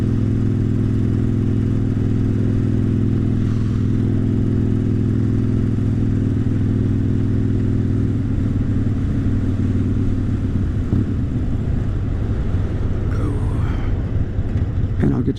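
A motorcycle fitted with upgraded LED headlights and front blinkers rides into a gas station, a loud steady engine rumble with wind noise that eases and gets more uneven toward the end as it slows.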